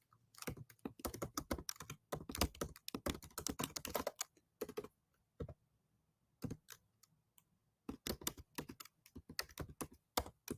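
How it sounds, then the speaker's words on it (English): Rapid typing on a computer keyboard, with dense bursts of close, crisp key clicks broken by short pauses and a few isolated taps, no talking. "I'm just going to go ahead and type it into my browser."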